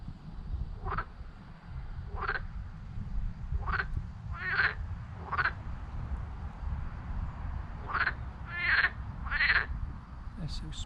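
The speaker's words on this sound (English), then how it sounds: "Oh, I thought I just heard a tree frog." Tree frogs croaking outdoors near water, a series of short rasping calls repeated at irregular intervals over a steady low background rumble.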